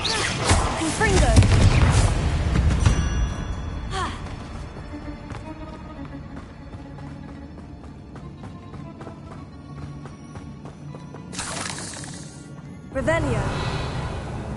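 Confringo fire spells explode in rapid bursts during Hogwarts Legacy combat: loud booming blasts cluster at the start, strike again briefly, then return near the end over a steady bed of game music.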